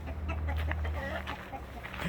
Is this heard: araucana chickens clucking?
yes